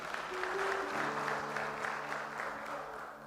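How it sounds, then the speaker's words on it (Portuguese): A church congregation applauds during a Portuguese-language sermon, a steady wash of clapping from many hands that runs for a few seconds at moderate distance, a little muffled, with faint voices mixed in. "Você quer aplaudir o nome do Senhor?"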